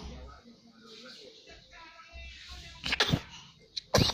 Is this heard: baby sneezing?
yes